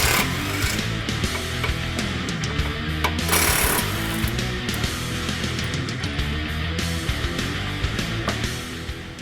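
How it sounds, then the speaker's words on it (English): A power tool, likely an impact wrench, removes the two bottom shock bolts on a 2015-2023 Ford Mustang GT/EcoBoost Fastback, running in steady loud hammering bursts close by with no talk. "Now to remove the shock, we're going to remove these two bottom bolts."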